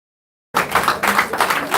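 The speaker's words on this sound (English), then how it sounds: "Please, let's clap and celebrate ourselves." Applause from an audience at a democracy forum in Abuja, a dense wash of clapping that starts abruptly after a moment of silence and carries on steadily at close range.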